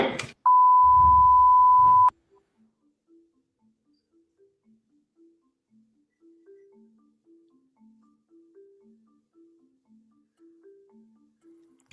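A steady bars-and-tones test beep sounds loudly for about two seconds during a court recess, then cuts off, leaving faint scattered electronic blips and near silence.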